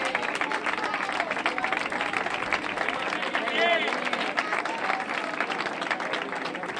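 Crowd applauding at an award ceremony for a popular running race marking a base's 60th anniversary, steady dense clapping throughout with faint cheers and voices mixed in.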